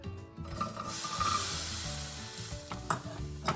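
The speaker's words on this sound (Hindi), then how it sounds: "अदरक, लहसुन और मिर्ची को थोड़ा सेकेंगे अच्छे से।" Ginger, garlic and chilli sizzle steadily in a hot pan while being stirred, a close, continuous frying crackle with scraping strokes and a few sharper clinks toward the end.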